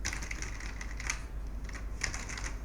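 Computer keyboard keys clack in quick, irregular bursts during a session of the racing game The Crew 2, faint and close, over a low steady hum.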